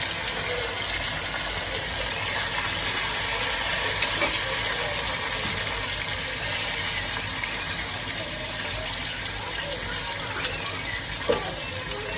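A steady, loud crackle and hiss of fish frying in oil runs throughout without pause, with an occasional faint clink, as it sizzles in a pan close by.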